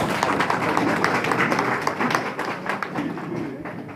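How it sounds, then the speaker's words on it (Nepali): An audience standing to give loud applause at the opening of a general assembly programme: dense, continuous clapping from a crowd that holds steady for a few seconds and eases slightly toward the end. "जोरदार तालीले यो कार्यक्रमलाई सुरु गरौँ"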